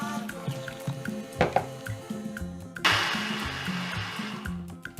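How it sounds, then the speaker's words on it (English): A kitchen blender purées fresh plantain with water, the motor roaring up loudly partway through and running steadily to the end after a quieter stretch of background tones. "And then I'm going to blend it in this blender."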